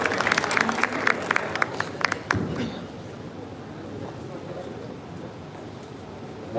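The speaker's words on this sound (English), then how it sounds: "Can you please put a huge round of applause" An audience at an international innovation and leadership conference applauds a speaker, brisk clapping for about two seconds that fades into quiet room tone.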